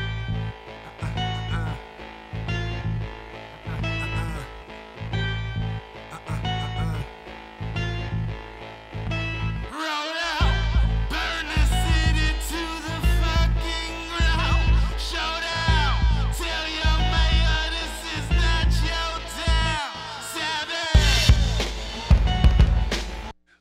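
Hip-hop beat intro with a vocal arrangement: a looping, steady bass-heavy groove with rhythmic chords, then after a short break the full beat drops in with layered vocal parts over it, loud and continuous.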